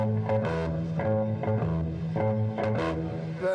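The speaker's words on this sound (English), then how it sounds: "But the basic difference is that most bass players sound like this." Bass guitar plays a repeating groove of low plucked notes, steady and rhythmic, with a slightly driven tone.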